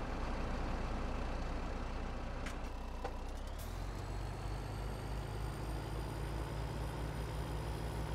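A modded truck engine in Farming Simulator 17 drones loudly and steadily, with a brief air-brake hiss partway through before the engine note settles into a lower idle.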